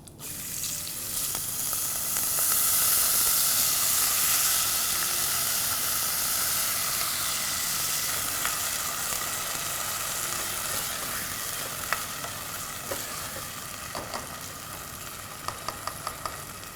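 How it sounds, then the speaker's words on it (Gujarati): Soaked rice sizzles and hisses steadily as it goes into hot oil tempering for masala khichdi, loudest at first then settling, with a few sharp crackles toward the end. "હવે આપણે એની અંદર ચોખા જે પલાળીને રાખ્યા છે એ નાખશું."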